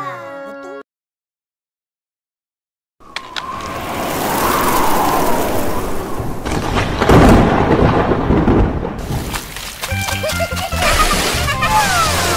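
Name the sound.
thunderstorm with rain in video game Sakura School Simulator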